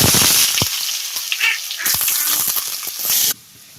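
Onions frying in a pan with curry leaves and garlic for dried fish thokku, a loud hissing sizzle broken by stirring scrapes and crackles, dropping away abruptly at the end.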